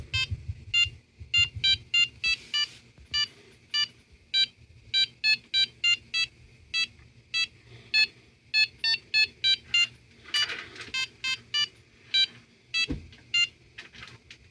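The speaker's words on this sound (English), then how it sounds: "playing with that buzzer using PWM and the duty cycle for volume" A small electronic buzzer driven by PWM beeps out a melody of short, clipped tones in quick rhythmic succession, with a brief noisy burst midway.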